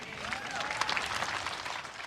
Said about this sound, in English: That cheering punctuated the day